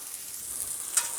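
Shrimp fried rice sizzles on a Blackstone griddle with a steady, hissing fry that stays bright and close. One brief, louder crackle breaks through, and no one speaks.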